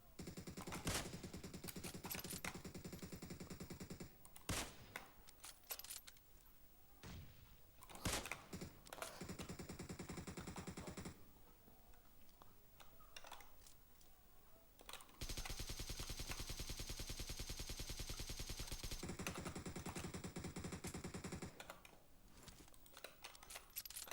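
Automatic gunfire in PUGB Mobile, a mobile battle-royale shooter, firing at an enemy: loud sustained bursts and rapid volleys, some stretching several seconds, broken by short pauses, with no talk over them.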